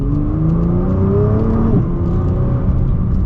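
A 2021 Nissan GT-R with its stock exhaust revs under acceleration, the engine note climbing steadily, then dropping briefly at a gear change before pulling again, loud and close with no talking.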